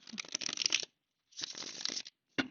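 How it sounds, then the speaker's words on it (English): Two riffle shuffles of a card deck, each a quick fluttering burst, followed by a short tap as the cards are squared, close and clear. "That was a good shuffle."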